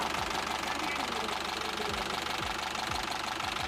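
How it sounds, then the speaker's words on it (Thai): An Isuzu NPR 115 steel-cage truck's diesel engine runs with a rough, rhythmic knocking clatter, loud and close, under a steady mechanical drone. "มาเอามาลองสตาร์ทดูเครื่องนะคะ"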